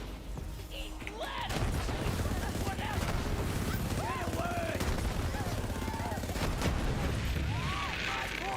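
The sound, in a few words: gunfire in a video game, Borderlands 4 style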